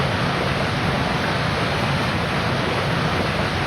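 Water spills steadily into a swamp, a continuous broadband rushing wash with no pauses, fairly loud and unbroken, with no voices.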